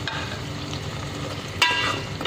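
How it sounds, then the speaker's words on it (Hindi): Gram flour koftas frying with masala in a pan give a steady, close sizzle, joined by a brief scrape or clink of stirring partway through. "जो हमने बेसनी कोफ्ते बनाए वो भी ऐड कर देंगे मसाले के साथ"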